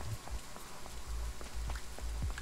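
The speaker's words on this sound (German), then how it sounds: "Platz da, es regnet hier drunter." Rain in the Train Sim World video game, steady pattering drops falling on a surface with soft low thumps underneath, fairly quiet and without voices.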